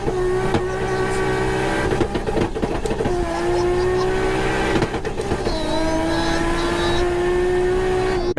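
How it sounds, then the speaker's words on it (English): A Nissan GT-R race car revs hard and steadily, its loud engine note holding high with brief dips and jumps as gears shift. The sound is close and continuous, with no one talking. "Man's shifting the GTR like a Honda driver. Jokes aside, maybe I'm hearing just a rev limiter or something?"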